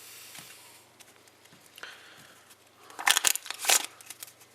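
Playing cards being shuffled by hand, faint riffling and crinkling at first, then louder bursts of rapid flutter near the end, close and without talk.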